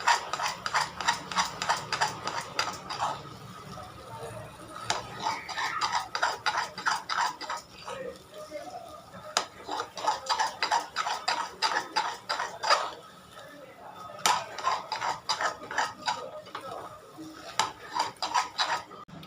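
A metal spoon stirs thick moong dal Chettinad ukkarai cooking in ghee in a pan, making rapid rhythmic clinking and scraping strokes in repeated bursts with short pauses between them.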